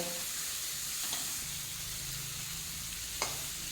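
Ground spices sizzle in hot oil with dried fish, a steady low frying hiss with a couple of sharp crackles and a faint stir partway through, no voices.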